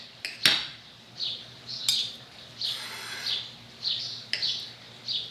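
Cutlery clinking and scraping on a plate while cutting pancakes into small pieces, a series of about six sharp metallic taps spaced roughly a second apart, close and clear over a quiet background.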